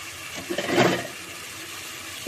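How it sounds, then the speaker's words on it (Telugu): Tamarind juice poured into a pot of sambar, a short splashing gush of liquid that peaks briefly and then fades against a low background hum. "చింతపండు పులుసు తీసి పెట్టుకున్నాను, పోసేస్తా"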